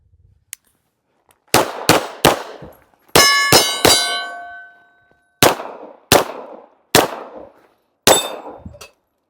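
Sharp pistol shots from a Beretta Cheetah 80x .380 ringing off steel targets outdoors, about ten loud cracks with metallic clangs, some in quick pairs and others spaced a second or so apart.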